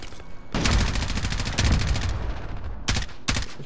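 Automatic gunfire in the Modern Warfare beta video game: sustained bursts, then two short volleys near the end, loud and close with no talking.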